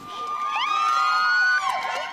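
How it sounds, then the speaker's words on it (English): A street crowd cheers and shouts to welcome home a six-year-old boy, with a sustained high whistle or shrill cheer rising over the steady, close crowd noise throughout. "Cheers and applause."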